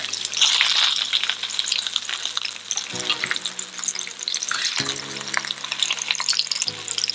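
Fish fillets sizzle steadily in a pan on medium heat, a continuous close crackling fry with a few brief low clunks of the pan or utensil, no talking.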